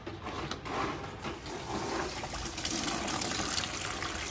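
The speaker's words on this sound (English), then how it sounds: "we gotta drain the coolant, so let's find a bucket and drain it" Coolant drains from a 2003/04 Mustang Cobra into a bucket, a steady close splashing trickle and gush of liquid that runs continuously with slight surges, no voices.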